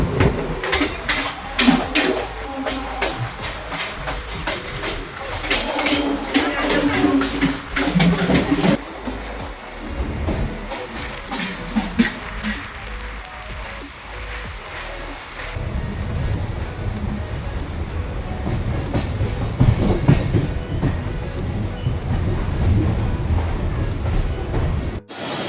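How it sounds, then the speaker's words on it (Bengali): A Mumbai local train runs along the rails, giving a continuous rumbling and rattling ride noise that shifts in tone partway through and lasts the whole stretch, with no voices. "ইতিমধ্যে আমাদের ট্রেন কিন্তু ছেড়ে দিয়েছে।"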